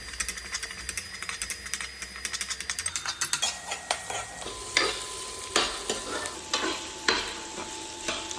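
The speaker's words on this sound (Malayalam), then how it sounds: "നമുക്ക് മുറിച്ച് വെച്ച സവാള അതിലേക്കിടാം. എന്നിട്ടത് ഒന്ന് കളർ മാറുന്നത് നമുക്കൊന്ന് ഇളക്കി കൊടുക്കാം." Sliced onions sizzle in a frying pan for a Kerala-style fish curry while a spoon scrapes and stirs them in quick repeated strokes, the stirring slowing to heavier separate scrapes over a constant frying hiss.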